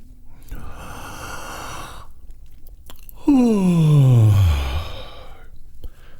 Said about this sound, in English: Yawn again and feel this area.